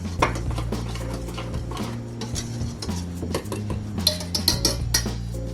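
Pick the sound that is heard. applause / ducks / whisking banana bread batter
whisking banana bread batter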